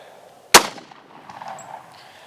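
A single loud, close shot from a .40 caliber handgun fired with a limp wrist, a sharp crack with a short ringing tail into quiet.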